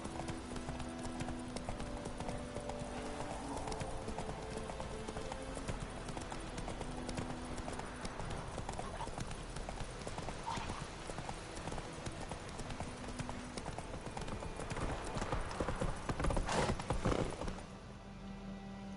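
Horse hooves clip-clop steadily throughout in The Witcher 3, with a galloping rhythm over a busy game soundscape of music and effects, growing louder near the end before dropping away.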